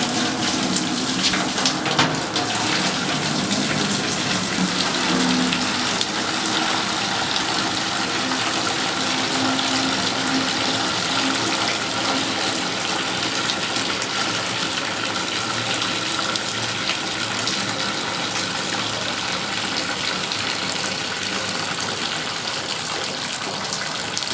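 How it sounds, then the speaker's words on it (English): Water from boiled potatoes drains out of a Firex CBTE030 tilting kettle in a steady, loud, continuous gushing rush that holds for the whole stretch with no talk. "I'm now going to strain the water from the potatoes, leaving the potatoes in the unit."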